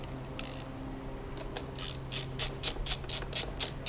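A hand ratchet tightens brake caliper bolts on a BMW S1000RR motorcycle, a fast run of sharp clicking bursts that grows louder and more regular toward the end, close by over a steady low hum.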